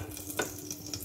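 Asafoetida sizzles in hot oil for a vegetarian ghugni, a soft steady hiss with one brief louder crackle partway through.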